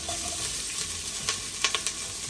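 Iguana meat for a Trinidad-style curry sizzling and frying in a hot pot seasoned with black masala, saffron, turmeric and cumin, a steady hiss with a few brief stirring clatters near the end.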